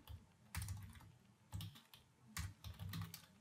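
Quiet typing on a computer keyboard, a few short clusters of key clacks separated by brief pauses.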